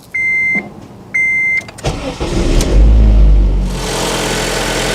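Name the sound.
car engine starting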